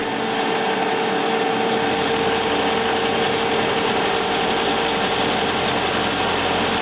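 A milling machine cuts metal, taking a pass 25 mm long on a workpiece. A loud, steady mechanical drone and whir runs unbroken throughout with a constant vibrating hum, and no voices are heard.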